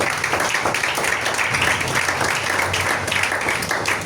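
Church congregation applauding together, a dense steady clatter of many hands clapping for about four seconds, fairly loud and continuous with no talk over it.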